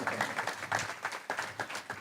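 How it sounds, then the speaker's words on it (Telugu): A church congregation clapping in praise of God, a fairly faint, rhythmic run of distinct claps in steady beats. "చప్పట్లు కొట్టి దేవుని మహింపరుద్దాం."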